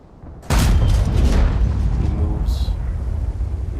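A T-54 tank's gun in World of Tanks fires a single loud, heavy boom that cuts in suddenly and rumbles on as a long, low decaying roar.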